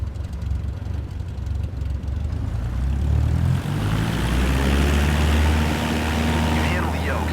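A small single-engine propeller airplane in MSFS 2024 throttles up to full power for takeoff, the engine drone rising from idle to a loud, steady roar with a strong low rumble that holds to the end.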